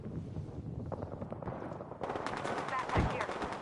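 Video game gunfire: a steady burst of rapid automatic shots, densest in the second half, with a loud crack near the end, heard over game background noise.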